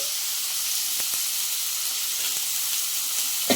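Cut nalleru (Cissus quadrangularis) stems frying in oil in a pan give a steady, close hiss and sizzle, with a few faint clicks and no voice.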